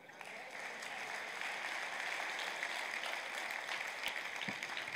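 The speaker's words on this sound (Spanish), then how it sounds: "Dale un aplauso a Cristo." A large group applauds steadily, a continuous wash of clapping at moderate distance with no break.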